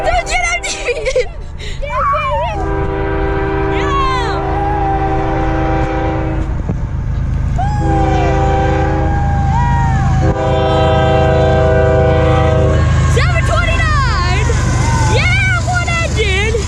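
A CSX intermodal freight train with one locomotive passes a road crossing, its horn blowing loud repeated long blasts over the heavy rumble of the rail cars. People talk close by the whole time.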